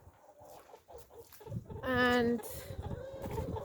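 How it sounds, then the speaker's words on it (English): Chickens cluck around a backyard shed at feeding time, a burst of loud squawking calls rising in the middle over soft scuffling, with a brief spoken word at the start. "So I'm gonna give the chickens some food."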